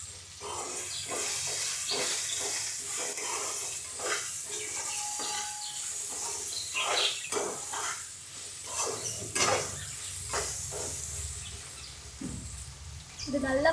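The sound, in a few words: pirandai and shallots frying in a pan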